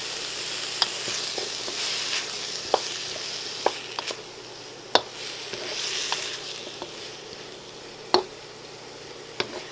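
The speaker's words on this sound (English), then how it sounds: "I'm going to saute this a little bit just to soften it up a little bit." Sweet potato and carrots sauté in a pan for a vegan curry, a steady close sizzle with scattered sharp ticks and clinks of stirring throughout, no voices.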